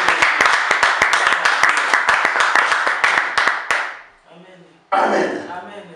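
A church congregation claps together in a fast, steady rhythm, loud and close, before the clapping fades out and a voice speaks briefly and then the sound of the room picks up again.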